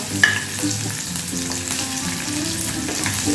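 Half a medium onion and a slit green chilli fry in hot oil with a steady close sizzle, a few light stirring clicks and scrapes scattered through.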